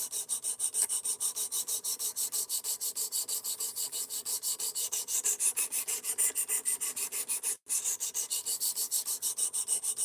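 A knife blade being sharpened on a guided sharpening system, steady rhythmic rasping strokes repeating close up and even in pace, with a brief break near the end before the strokes resume.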